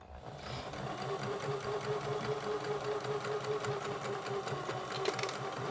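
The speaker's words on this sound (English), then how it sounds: "I'm going to stitch across it, back stitch to secure it one more time, and then keep going." A sewing machine stitches across a hair tie in a steady, continuous run, its motor humming close and even with a rapid mechanical needle rhythm, a faint click near the end.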